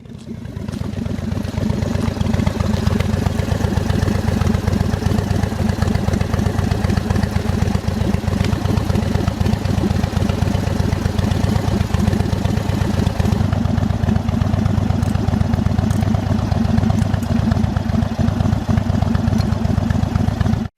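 A 2022 Indian Chief motorcycle engine rumbles loud and steady throughout a short ride, a continuous close-up drone with no talking.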